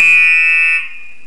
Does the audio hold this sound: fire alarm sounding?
yes